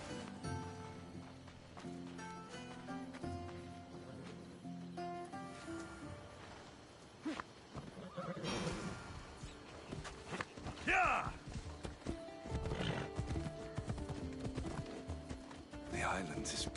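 Horse hooves clip-clop at a gallop with a neigh in the Assassin's Creed video game, set under a game music score, with character voices talking over parts of it.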